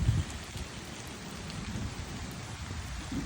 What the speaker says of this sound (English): Thank you, Jesus, for raining.